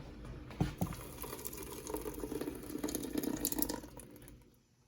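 Water, about two and a half to three cups, splashes and pours steadily into a pot of simmering homemade vegan tomato basil soup, a close, continuous liquid rush that fades out at the end.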